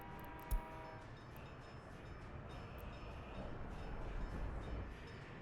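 Trains running in the Soviet-era city-building game Workers & Resources: Soviet Republic, a steady low rumble of rolling rail cars with a faint clatter and a sharp knock near the start, alone without voices.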